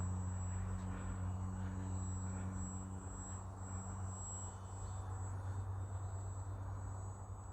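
Electric motor of a Twisted Hobbys RC Factory MXS-C model plane at about 40% throttle, hovering in place, a steady close propeller drone with a constant low tonal hum throughout, no voices.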